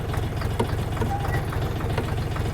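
Engine of a DTZ 5244HPX mini tractor stuck while reversing up a slope on rough ground, a steady low rhythmic diesel chug running throughout, close and loud, with someone talking over it.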